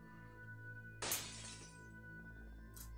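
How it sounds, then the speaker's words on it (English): Glass shatters in the horror video game Seven Mysteries: The Last Page: one sharp crash that rings briefly over a quiet, droning background, then a shorter burst of noise follows. "He heard glass breaking."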